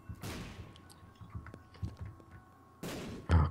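Turrets firing in the roguelike The Binding of Isaac: soft, faint, scattered shot pops and small thuds, then a louder burst and a heavy thump near the end.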